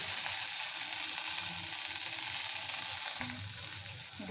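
Four green chillies fry in a hot pan on a stove, giving a steady close sizzle with brief stirring scrapes and no voices.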